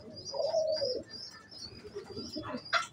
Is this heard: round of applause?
no